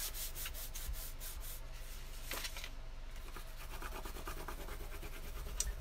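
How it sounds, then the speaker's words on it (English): Paper on a notepad holder craft is burnished down with firm, quick rubbing strokes, producing a close, steady scratchy swishing with a brief sharper stroke partway through. "And give her a good burnish."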